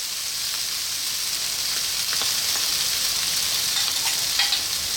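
Vegetables for a vegan dish frying in a pan, a dense, even sizzle with light scrapes of a utensil keeping them moving.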